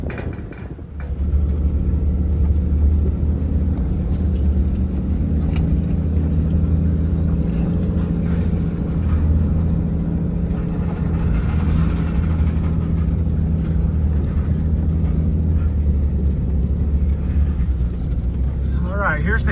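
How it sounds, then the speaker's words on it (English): A ranch truck pulling a trailer drives along at a steady, low engine drone that rumbles continuously throughout, with the cab's engine note holding fairly even. "So I'm gonna grab a truck and trailer and go open the gate"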